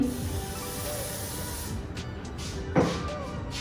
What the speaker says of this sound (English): So we will spray